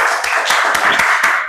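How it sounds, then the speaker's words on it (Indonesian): An audience clapping for a short moment, a brisk, fairly loud patter of hand claps with a few sharper individual slaps standing out, close and without speech. "Beri tepuk tangan yang meriah."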